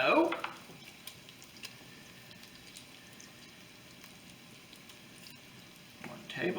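Bacon cooks in a pressure cooker for game day chili, giving a soft continuous sizzle and faint crackle under occasional utensil clicks, with louder handling noises at the start and end.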